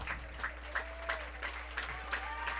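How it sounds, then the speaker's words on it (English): A crowd at a Newport Gulls vs Sanford Mainers baseball game claps in a steady, rhythmic beat to cheer on a batter, filling the ballpark with even, repeated applause. "Crowd giving him some extra encouragement."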